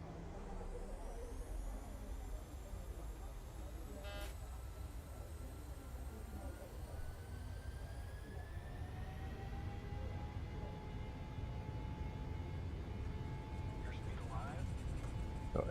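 Airliner jet engines in MSFS 2020 spool up for takeoff at Seattle, a steady rising whine and rumble that builds gradually, with faint speech over it.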